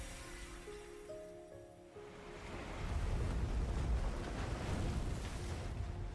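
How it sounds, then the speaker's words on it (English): Stormy waves from a suddenly broken mirror in the game Glimmer in Mirror: a soft tonal passage gives way to a steady, fairly loud rush of surf and wind that holds to the end, with no voices. "The sound of stormy waves came from the suddenly broken mirror"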